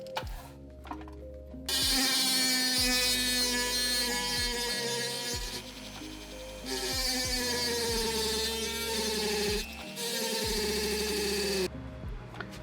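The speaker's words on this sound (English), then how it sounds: "Now I'll cut the rest of this out by hand with a rotary tool." A handheld rotary tool fitted with an abrasive cutoff wheel cuts through plastic in long, loud whining stretches with strong tonal harmonics, stopping briefly twice and dipping in pitch as it bites, with no voices.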